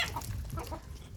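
Chickens cluck and chatter close by as they are fed a vegetable salad, several soft overlapping calls over a low rumbling background.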